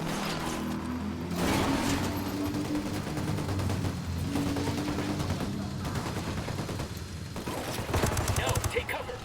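Sustained bursts of automatic gunfire from a Ghost Recon Wildlands firefight crackle densely and loudly for the whole stretch, with rapid overlapping shots and no letup.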